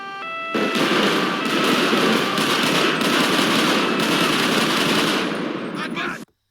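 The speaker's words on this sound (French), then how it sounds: "il y a plusieurs individus qui tirent sur les collègues" Dense, loud video-game gunfire from several shooters rattles in continuous automatic bursts for about six seconds, then cuts off abruptly.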